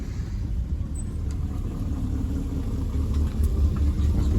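A heavily tuned BMW 335i making about 700 horsepower rumbles in a deep, steady, close idle at a supercar gathering in the Vercors, running alone without talk and swelling slightly toward the end.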